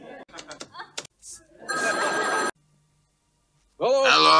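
An old bell telephone rings in two loud, harsh bursts with a silent gap between them, following a few short clicks and a brief voice.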